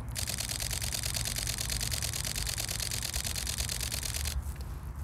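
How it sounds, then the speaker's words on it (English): A rapid, continuous burst of mechanical camera shutter clicks from a Fujifilm X-T4 at 15 frames per second fires evenly for about four seconds, then stops abruptly, leaving quiet room tone. "15 frames per second with a mechanical shutter for stills,"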